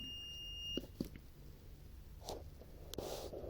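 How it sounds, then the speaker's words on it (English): A multimeter gives a short, steady continuity beep at the start, followed by a few faint clicks and rustles on a quiet bench. "Again, it is continuity sound."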